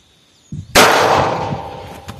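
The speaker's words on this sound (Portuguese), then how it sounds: "Próximo disparo a gente vai fazer com a munição da marca Celibelo." A single sharp gunshot from a .380 ACP pistol fired into a soap block at about two metres: a brief click, then a loud, close crack that decays into a long ringing tail.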